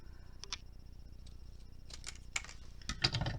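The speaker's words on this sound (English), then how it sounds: "Let me cut this hinge so I don't get confused." Scissors snip a paper hinge for an envelope pocket craft, giving a few quiet, crisp clicks and cuts in an otherwise hushed room.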